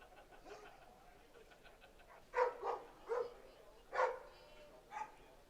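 At a club rugby finals match at the Gerald McGavin Rugby Pavilion, a dog gives about five moderate barks spaced over a few seconds, set against quiet crowd murmur.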